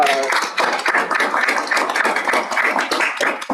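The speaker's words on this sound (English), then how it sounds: "We can give them a quick round of applause." Attendees at a district meeting give a quick round of applause, a fairly close, moderately loud patter of individual hand claps with a voice briefly heard at the start.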